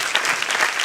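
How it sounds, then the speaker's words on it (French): Audience applause for the day's speakers at a French-language personal-development conference, a brisk, steady wash of many clapping hands, close and fairly loud throughout. "est-ce qu'on peut applaudir pour les conférenciers qui sont passés toute la journée, là?"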